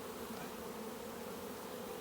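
Honey bees buzz around honeycomb in a hive beneath a flat roof, a dense, even swarm drone holding steady throughout, with no talk over it.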